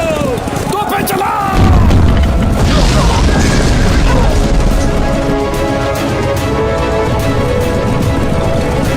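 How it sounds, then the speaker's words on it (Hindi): Cannons firing in a battle scene from a film about the Sikh boys Fateh Singh and Zorawar Singh, a loud heavy boom followed by a rumbling roar and clatter under shouting voices. "तोपें चला।"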